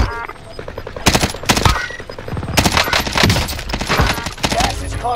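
Rapid bursts of gunfire in a battle royale shooter game, loud and close, with dense repeated shots in several rapid volleys and a short pause between them.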